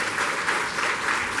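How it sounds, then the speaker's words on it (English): A conference audience at a higher-education event on AI breaks into steady, continuous applause, dense clapping from a sizable crowd with no voices over it. "Please give them a round of applause as well"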